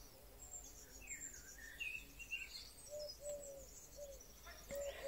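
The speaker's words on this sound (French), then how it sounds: "la joie des oiseaux." Birds sing in a springtime green setting with trees and grass, a scatter of short chirps and whistled phrases at moderate distance, faint and repeated over a soft background hum, with no talk.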